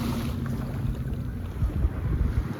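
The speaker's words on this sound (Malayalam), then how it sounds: "ഇത് ഒരു മിലിറ്ററിൻ്റെ ഒരു ബോട്ടാണ്" Steady engine rumble of a military boat out on open water, with wind buffeting and low churning noise throughout, no voices.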